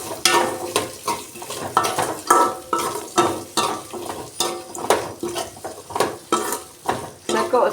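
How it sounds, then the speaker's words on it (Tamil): Onion and garlic frying in a pan for a murrel fish curry, with a steady sizzle broken by regular rhythmic scrapes and clinks of a spatula stirring against the pan, close and loud. "நல்லா செவக்க விடுங்க வெங்காயம் பூண்டெல்லாம்"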